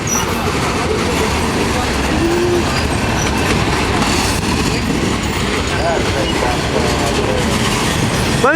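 A long Norfolk Southern mixed freight train rolls steadily past at a road crossing, northbound and picking up speed, its wheels clattering loud and continuous with a brief squeal near the end.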